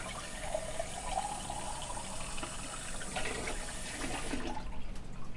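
Warm water pours steadily into a mixing bowl of dough ingredients, a continuous close splashing and trickling that runs the whole time and trails off into near quiet at the end; no voices.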